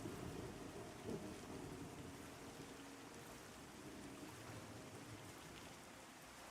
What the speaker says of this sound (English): Especially with the rain hitting it and the sound effects.